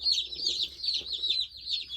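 Baby chicks, Cornish Rock cross meat birds, peep constantly in a rapid, high chorus, loud and close, with no talking.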